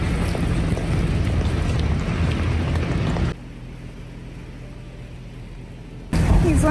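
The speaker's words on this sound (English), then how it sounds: "It is raining today." Steady rain falls outdoors on a winter day at a horse shelter, a dense broadband wash with wind buffeting the microphone; it drops quieter midway, then swells back to full loudness near the end.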